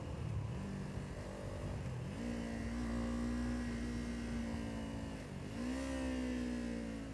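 A Kawasaki Ninja 500 motorcycle engine runs steady and loud, with its pitch dipping and climbing again around each upshift as it works from a low gear to a high one, with no talk over it.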